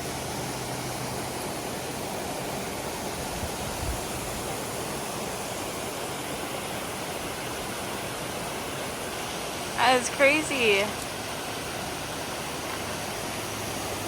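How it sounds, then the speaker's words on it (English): Steady broadband rush of a waterfall on a river along the Appalachian Trail, constant and fairly loud throughout, with a man's brief exclamation partway through. "I just came across a waterfall and it's spectacular"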